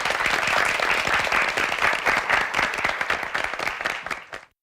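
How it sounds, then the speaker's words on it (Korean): A student debater steps up at a televised Korean high school debate contest, and an audience applauds in a loud, dense burst of many hands clapping before it stops abruptly. "김휘준 학생을 박수로 환영해 주십시오"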